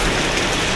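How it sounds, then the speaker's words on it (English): Steady rain on a roadside in Indonesia, a dense hiss of drops close by and fairly loud, with no talking. "we're back to the rain"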